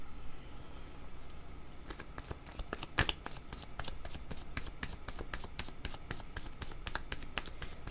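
A deck of cards is shuffled for a card reading, a steady run of soft, close, rhythmic riffling flicks over a low background hiss, with no talking.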